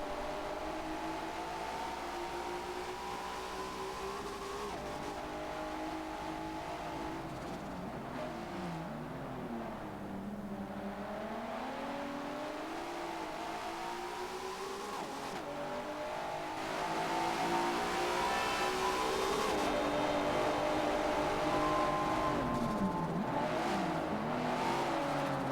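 Race cars circling a track in the Forza Spec Racing Series, engines droning steadily with rising and falling revs as they shift and corner, a continuous layered roar that grows a little louder near the end.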